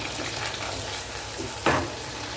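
Onions and tomatoes sauté in a pan, a steady close sizzle of frying with occasional stirring scrapes and one brief louder spatter.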